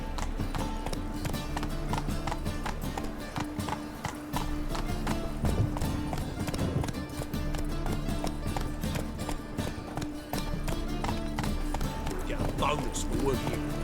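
Geralt's horse Roach trotting in The Witcher 3, steady hooves clip-clopping throughout at a close, moderate level, with voices talking over it.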